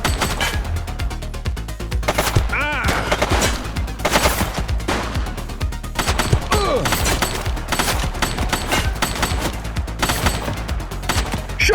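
Sustained, loud gunfire fills a firefight in the police game The Precinct, with rapid automatic bursts and single shots crackling close by, mixed with thuds and occasional shouted voices.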